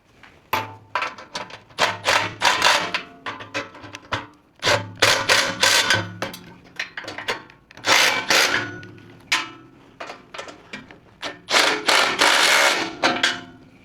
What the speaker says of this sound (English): I'm going to go ahead and tighten those bolts.